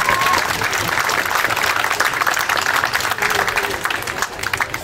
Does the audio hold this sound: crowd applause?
yes